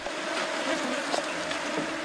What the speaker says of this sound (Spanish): La nube de moscas en el lugar es agobiante.